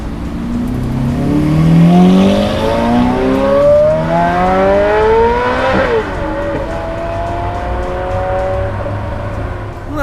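A sports car with an F1-style paddle-shift gearbox and modified exhaust revs hard at a Daikoku car meet. The engine note climbs in pitch to a loud peak, then settles into a steady throaty idle, with no talking.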